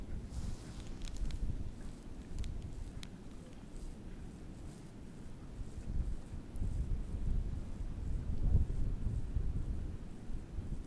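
Strong, low, rumbling wind buffets the microphone continuously on a frozen river while ice fishing, gusting stronger toward the end, with a few faint clicks early on.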